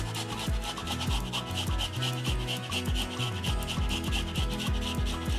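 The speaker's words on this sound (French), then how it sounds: "je vais râper le gingembre" Fresh ginger is rasped over a grater for a chicken marinade, with steady back-and-forth scraping strokes close up at a quick, even rhythm.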